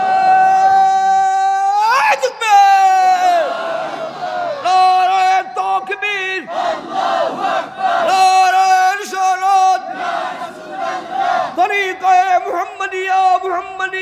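A large crowd at a Ramadan waz gathering shouts the takbir in loud, sustained, chant-like voices, rising together in several long waves that trail off between repetitions.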